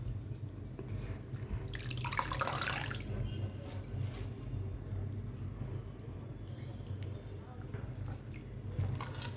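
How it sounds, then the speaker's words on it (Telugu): Leafy greens such as fenugreek leaves are washed by hand in water, with soft, faint splashing and dripping and one brief louder slosh near the start. "కొంచెమన్నా మట్టి అనిపించిందా, అలా కడుక్కోవాలి ఆకు అనేది."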